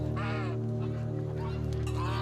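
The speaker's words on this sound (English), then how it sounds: "At first, the grove resonates with goose honks." Geese honk repeatedly over a steady low droning hum, their calls rising and falling in short bursts.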